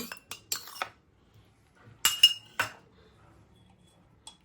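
A metal spoon scoops curd from a bowl, making a few sharp clinks and scrapes clustered at the start and middle, with brief quiet gaps and one faint tap near the end.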